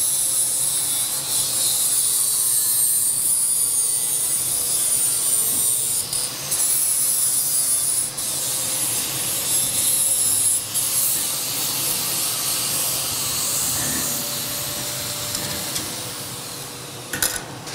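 Metalwork grinding runs nearby during rusty metal restoration, a continuous harsh rasping and hissing with slight shifts in pitch and a few brief knocks, steady and fairly loud throughout.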